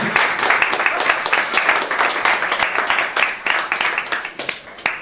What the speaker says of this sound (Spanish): vamos a aplaudirle ahora